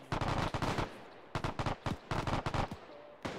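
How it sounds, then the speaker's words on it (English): A machine gun fires in long rapid bursts during a D-Day anniversary battle reenactment, loud and close, with three sustained strings of shots separated by short pauses. "Man, that's one of our machine guns, that's for sure."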